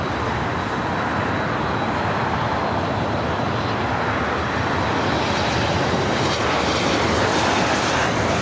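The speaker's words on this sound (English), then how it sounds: "that flight coming in from Sacramento" Loud, sustained jet engine roar as an airliner from Sacramento arrives at LAX, a dense broadband rush that stays strong and steady for the whole stretch, with no talk.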